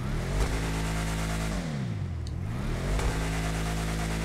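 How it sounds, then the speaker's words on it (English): A Bravado Gauntlet Classic muscle car in GTA Online revs its supercharged engine with dual filters, a loud, steady low rumble dipping and climbing again mid-clip as the throttle blips. "when you rev the motor, it slows down the timing belt"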